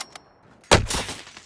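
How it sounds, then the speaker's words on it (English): A single sharp sniper rifle shot cracks out in a video game, loud and close, followed by a brief decaying tail and rumble. "Oh, he sniped me."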